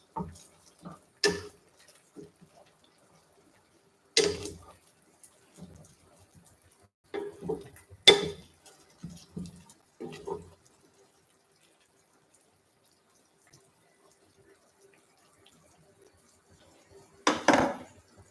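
Utensil stirring ingredients in a cooking pot for a green soup, giving sparse scraping and clinking knocks in irregular bursts with quiet gaps between.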